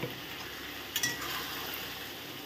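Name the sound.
stirring poppy seed paste with ridge gourd in a pan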